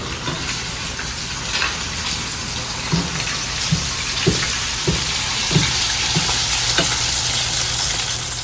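Sand trout fillets sizzle and crackle steadily in hot oil, with a run of soft knocks and scrapes from flipping the fish partway through; no talking.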